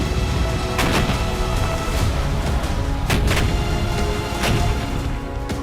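Explosions echo through a deserted war-torn Bakhmut: several sharp booms and cracks stand out over a constant dense rumble, some close and loud, others distant, with no talk.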